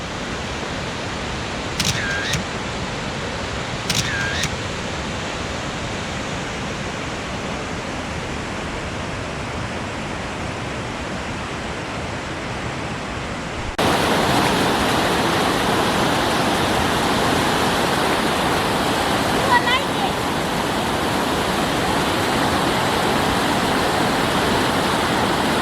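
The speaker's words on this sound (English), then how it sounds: "Pretty waterfall." Waterfall along Crystal Mill Trail in Colorado gives a steady broadband rush throughout, growing noticeably louder partway through as if nearer the falls, with a couple of faint sweeping chirps early on.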